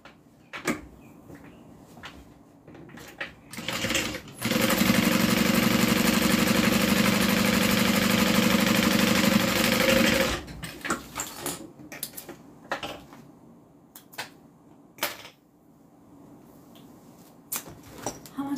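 A sewing machine running a top stitch on a fabric bag, one continuous steady whirring burst of about six seconds, close and fairly loud, set between scattered handling clicks and thumps.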